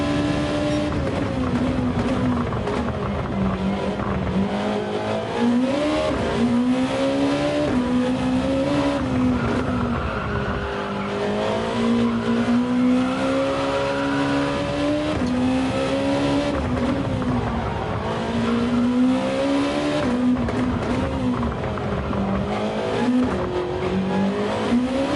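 Race car engine in Gran Turismo 7 holds a steady loud drone for the whole stretch, with pitch rising and falling through gear changes and intermittent tire squeal; no one talks over it.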